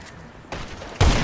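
Gunshots are fired at a bear in a GTA roleplay video game, a brief burst of sharp cracks that ends in one loud report near the close.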